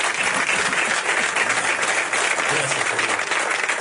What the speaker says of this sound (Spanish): Ariel, ¿te puedo pedir un aplauso?